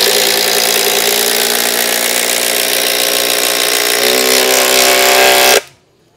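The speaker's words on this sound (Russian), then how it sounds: "Все, прекрасно затягивается шуруповертом, абсолютно надежное крепление." A cordless screwdriver drives a structural screw into a roof rafter with a loud, steady motor whine that deepens as the screw seats, then cuts off abruptly after about five and a half seconds.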